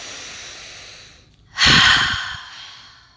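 A slow, deep breath during a yoga flow: a soft inhale, a brief pause, then a loud, breathy exhale rushing out close to the mic.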